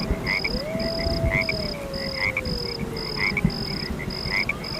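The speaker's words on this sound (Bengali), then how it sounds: "ব্যাঙের গো গো শব্দ" A chorus of frogs croaks in regular pulsing calls at a moderate distance, an even rhythm of repeated notes with a soft background hum and no talking.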